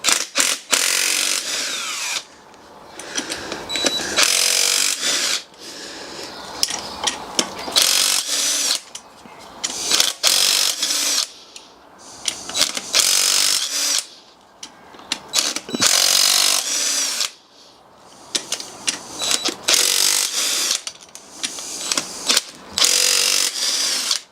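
Hand and power tools work on an engine's big end bearing caps, giving close, loud bursts of ratcheting and whirring separated by short pauses, with clicks and metallic handling in between and no talk.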